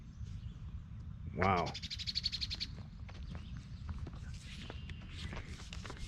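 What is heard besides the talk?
birds singing near a cemetery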